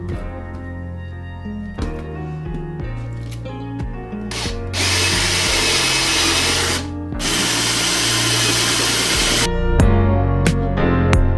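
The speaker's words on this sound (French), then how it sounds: "Alors là, je vais percer d'abord ce trou-là." A power drill bores a hole while mounting a suitcase-style rack, whirring in short bursts at first and then running loud and steady for several seconds, close up with no talk.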